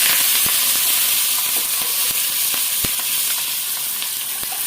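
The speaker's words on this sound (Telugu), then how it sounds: "ఇప్పుడు కరివేపాకు వేసేసుకుందాం" Curry leaves crackle in hot oil in a small pan for a buttermilk rasam tempering, a loud continuous frying hiss with sharp pops scattered throughout, close by and without talking.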